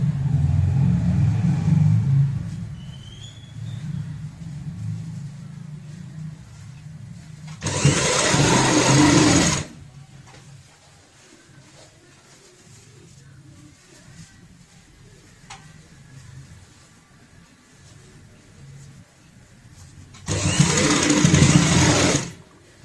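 A sewing machine stitches a fabric bag in two separate bursts of fast, steady whirring, each lasting about two seconds, close by, with quiet room noise and faint talk between them.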